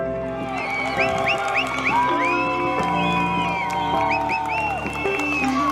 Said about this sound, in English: A big roar from the away support.